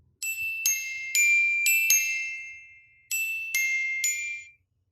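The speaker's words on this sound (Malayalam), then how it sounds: "ഈ നോട്ടിഫിക്കേഷൻസും പിന്നെ റിംഗർ സൗണ്ട് ഉണ്ടല്ലോ" Coca-Cola edition Realme phone ringtone playing from the handset: a bright chiming jingle of rapid bell-like notes, a short pause, then the phrase starting again, clear and alone.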